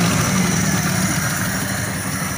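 A Chevrolet Aveo engine with bent valves runs at idle right after starting, a loud, continuous rough drone with an uneven, slightly misfiring character, close to the microphone with no talking.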